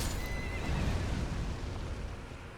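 Elden Ring horse, a loud game neigh in a dense, rumbling mix with the whinny rising over heavy low noise, heard alone without talk.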